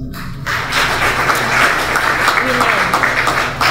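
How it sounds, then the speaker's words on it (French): Audience applause at a private-sector engagement forum on reducing community violence, steady clapping that starts abruptly and continues throughout with some voices mixed in. "Je voudrais l'applaudir pour ça."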